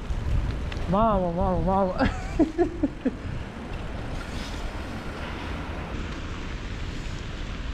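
Wind and rain in a rainy, windy, cold town, a steady broadband rush of gusts and rainfall under the microphone throughout, with a voice speaking briefly near the start.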